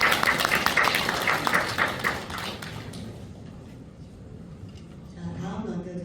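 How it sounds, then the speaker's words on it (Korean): Audience applause at a founding seminar of an anti-fake-news foundation rings out densely, then thins and fades after a few seconds, with a voice speaking afterward. "박수 주십시오."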